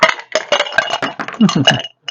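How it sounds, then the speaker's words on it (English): Ice is dropped into a cocktail glass for an El Diablo drink, giving a dense, close run of clattering clinks and knocks that lasts about two seconds before a brief pause. "get my glass and some ice."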